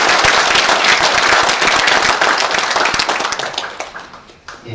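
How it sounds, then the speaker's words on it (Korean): Big round of thanks applause from advisory council members at a Busan ceremony, loud dense clapping from a crowd that thins out into scattered claps near the end. "우리 평통 자문위원 여러분들께서 다시 한번 감사의 큰 박수 부탁드리겠습니다"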